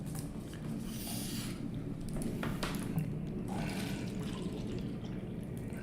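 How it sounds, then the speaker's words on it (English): Water is poured into a glass in a few soft splashing gushes, faint and close, over a steady low background hum with no talk. "You heard that perfect pour?"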